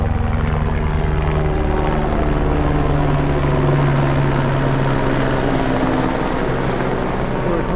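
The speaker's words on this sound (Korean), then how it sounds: "진짜로 헬기가 왔습니다" Helicopter arriving high in the Himalayas near Annapurna, its steady rotor thump and engine drone loud and continuous throughout, close by with no talk.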